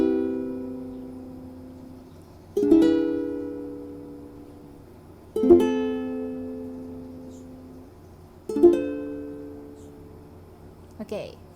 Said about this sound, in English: what you're going to do is you need to strum once per chord.